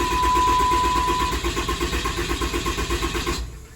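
A 6.7 Cummins diesel pickup engine cranking over with a steady, rhythmic starter churn, laboring through repeated turns before it catches near the end.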